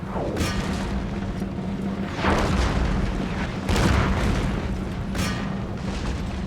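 Heavy booming cannon fire in a historical strategy video game battle, several deep blasts rolling over a dense, continuous background of battlefield noise.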